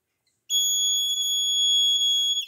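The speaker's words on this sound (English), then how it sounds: "the buzzer is giving the buzzing sound" A buzzer sounds from a BC547 and photodiode fire alarm circuit: a steady, piercing electronic tone starts after a moment of silence and holds evenly, loud and close, to the end.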